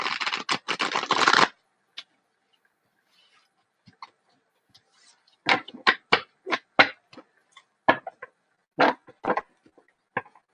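Tarot cards shuffled during a reading: a dense riffling burst at the start, then a run of sharp, separate card taps and flicks, close and clear with no talking.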